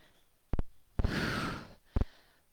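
Heavy breathing after a strength training exercise: two quick sharp inhales, then a long loud exhale lasting about a second, followed by another short double breath, close and alone.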